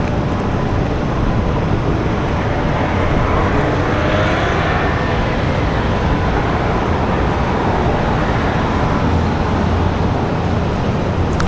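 A Lufthansa airliner taxiing at Washington Dulles airport gives off a continuous, loud broadband roar of jet engines that stays steady throughout, with no voices.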